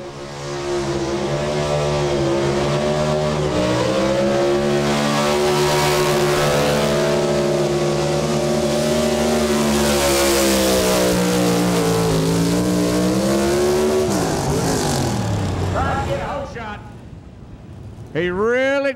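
A GMC truck with a big-block Chevrolet engine at a truck pull, roaring loud and close at high revs, easing off and surging back, then dropping away at the end under an announcer's voice.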